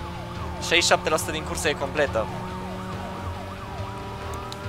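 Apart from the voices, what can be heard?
police car siren in video game Need for Speed Most Wanted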